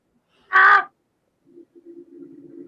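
During a live-action role-play, a person imitates a crow and gives one loud, harsh caw. After a short silence, a faint, low, wavering sound trails off.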